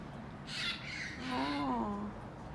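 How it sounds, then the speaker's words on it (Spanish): Crows squawk while attacking a green parakeet outdoors, giving a few harsh, scratchy calls and a drawn-out, wavering cry. The calls are faint and distant over steady background hiss. "Los crows se quieren comer al periquito, no ves."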